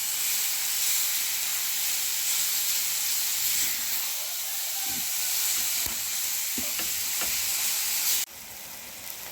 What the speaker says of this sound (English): let my mince fry at least 10 minutes